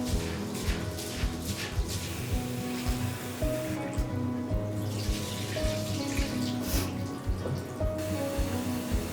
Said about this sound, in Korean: 그런 다음에 이제 손으로 바락바락 주물러요